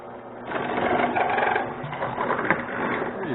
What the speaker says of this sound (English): once I drill the 3/8